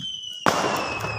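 A Diwali firecracker goes off with a sudden loud bang, followed by a crackling, hissing burst that fades out over about a second.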